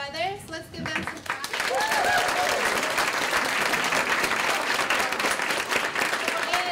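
A room audience applauds the student setup team, the clapping swelling quickly after a short spoken phrase and holding loud and steady, with a few voices and whoops mixed in.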